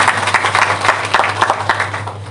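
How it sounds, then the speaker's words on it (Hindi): Applause from a gathering of journalists at a Hindi Journalism Day event, a brief burst of clapping with rhythmic hand claps over a steady low hum. "मैं चाहता हूँ कि जोरदार तालियां तमाम मीडिया के साथ।"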